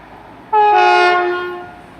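A passing train on a Plymouth to Manchester Piccadilly service sounds a loud, close two-tone horn, one sustained blast that starts abruptly and fades slowly, heard alone with no talk.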